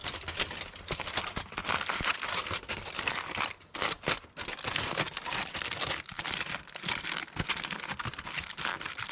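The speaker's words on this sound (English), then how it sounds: "I think I'll cover that with a little bit of tin foil." Tin foil is crumpled and pressed over food at a campsite cooking setup, giving dense, close crinkling and crackling bursts that continue almost nonstop, with a couple of short pauses.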